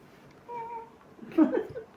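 A pet cat at home during a card game gives a faint, thin meow, followed by a louder, rougher cry or rustle close by.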